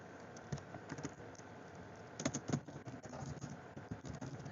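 Soft, quick clatter of fingers typing on a computer keyboard, a steady patter of keystrokes with a brief denser flurry midway, close and fairly quiet with no talking.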